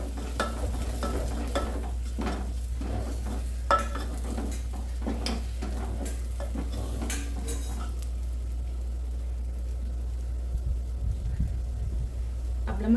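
Masala for a mutton curry frying and being stirred in a pan, with a steady sizzle beneath repeated scraping and clinking strokes of a spoon against the metal, close and continuous, quieter scraping in the last seconds.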